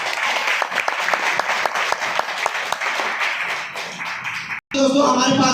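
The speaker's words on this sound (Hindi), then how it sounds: "इसके लिए मैं चाहूंगा जोरदार तालियां" An audience at a health products presentation breaks into loud, sustained applause, a dense patter of many clapping hands that runs for several seconds before cutting off abruptly, followed by a brief burst of other sound.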